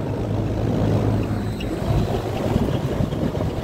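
Rooftop HVAC unit with condensing fans running and a compressor turning backwards, giving a loud, steady low rumble and whooshing airflow noise throughout, with no voices.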